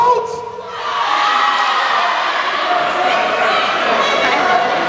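A school crowd at Cairo High School fills a gym-like space with steady cheering and chatter, a broad, continuous roar of many voices with occasional whoops and shouts rising over it.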